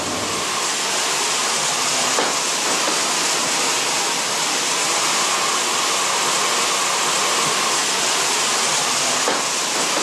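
Molten gold is poured into ingot molds in a goldsmith's workshop, giving a dense, steady hiss and rush that fills the whole stretch without pause, with no voices over it.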